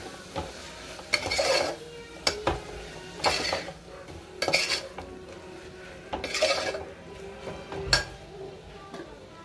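Biryani masala and garam masala being stirred into chicken pulao in a metal pot, a series of scraping, clanking spoon strokes in uneven bursts with sharp knocks against the rim between them, close and moderately loud.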